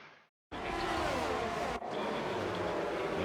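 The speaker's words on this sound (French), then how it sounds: "On va baisser encore un peu le son des voitures." Formula 1 race cars at the Montreal Grand Prix in a video game produce a continuous engine drone that cuts in abruptly after a brief gap and holds steady, with a short dip midway, moderately loud and without talk.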